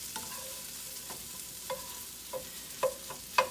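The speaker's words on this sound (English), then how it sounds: "There's a lot of chopping up in the pan going on." A spatula chops and stirs egg, onions and meat into fried rice in a hot pan, giving a steady low sizzle broken by a series of sharp metallic scraping clacks at irregular intervals.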